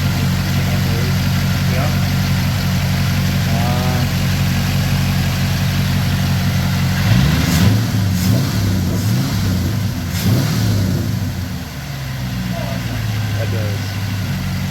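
A 6.0 diesel engine running near, its steady idle rising briefly in a rev and then settling back down to a smooth idle, with someone talking briefly over it.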